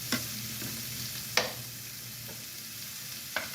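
Chopped onions frying with salt in a pan for a spicy black-eyed bean curry: a steady close sizzle with a few sharp stirring scrapes spaced across the stretch, and no talking.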